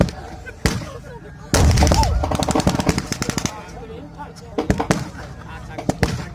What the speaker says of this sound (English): British artillery still coming in